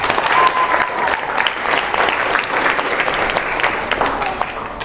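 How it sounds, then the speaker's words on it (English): Audience applause at a live public-speaking summit, steady dense clapping from a seated crowd filling the room throughout, with faint voices underneath. "please help me to give more a round of applause to Raihan."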